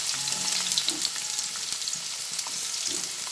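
Steady sizzling of bitter gourd frying in hot oil, a continuous crackling hiss with occasional stirring, no voices.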